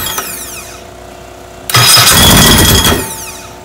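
A Sprite race engine cranks over with its starter motor, a faint whirring first, then catches and fires into a loud, close roar for about a second before easing back.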